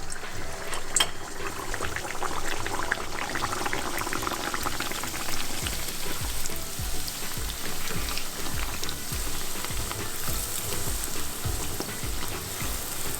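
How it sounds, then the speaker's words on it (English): Bhatura dough frying in hot oil, a steady, dense sizzle and bubbling that holds loud and close without a break. "So I'm going to fry my first bhatura."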